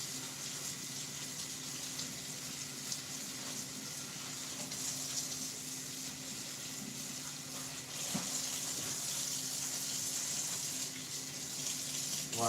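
Steady running water from a kitchen tap rinsing gritty food in a sink, a continuous even splash with a few small knocks, close and moderately loud, no talking.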